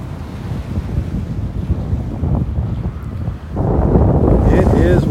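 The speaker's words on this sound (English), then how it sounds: "It is windy up here," Strong wind buffets the microphone on a beach in North Naples, Florida, with surf washing in underneath; the roar stays steady and loud, swelling heavier over the last second and a half.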